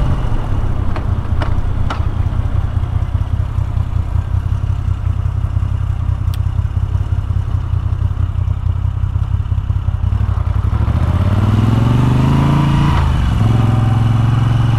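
A Moto Guzzi V7 850 motorcycle rides with a loud, close, steady engine drone throughout, its pitch rising and swelling near the end as the bike accelerates, with no talking.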